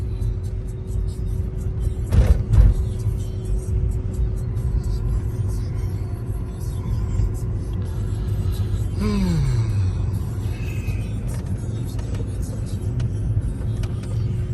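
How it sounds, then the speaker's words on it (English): Steady road rumble heard from inside a Mercedes S550 4Matic driving through heavy traffic after Hurricane Ida, a continuous low drone with a brief louder thump early on and a passing vehicle whoosh partway through. "So much traffic."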